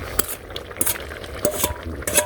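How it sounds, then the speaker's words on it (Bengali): Fish and fried onions tipped into a simmering curry and stirred, soft bubbling under a few sharp spoon-against-pot clinks and scrapes, close and moderately quiet. "মাছ আর পেঁয়াজ ভাজিটা সব দিয়ে দিলাম, একটু মশলা দিয়ে দিলাম"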